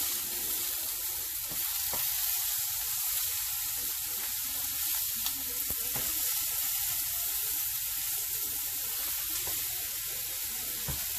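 Thawed frozen sausage sizzles steadily in a frying pan while being broken up, a constant close hiss with faint scraping and no talking.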